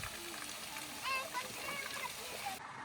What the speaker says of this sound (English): The man was surrounded by water fountains flowing all around and creating an amazing environment of a water palace.